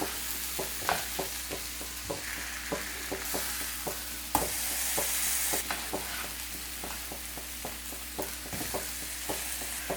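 Chicken coated in onion paste masala shallow frying in a pan, a steady sizzle running beneath a regular series of sharp spatula scrapes and stirring knocks, close and moderately loud, with no voices.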